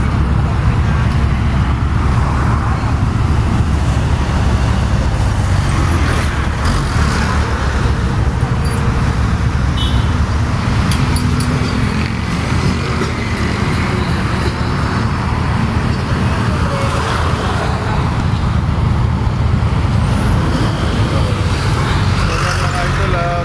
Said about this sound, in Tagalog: Kasagsagan na ito sa traffic.